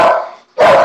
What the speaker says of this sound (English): sorry, I got a dog barking.